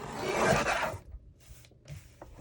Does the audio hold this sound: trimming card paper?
yes